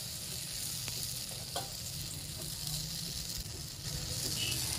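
Olives coated with salt and turmeric crackle faintly in a pan as they are stirred, a low, even sizzle with occasional soft scrapes of the spoon.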